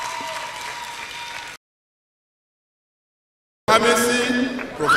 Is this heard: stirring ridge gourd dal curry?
no